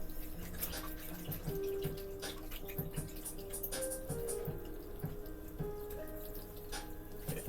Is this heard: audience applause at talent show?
no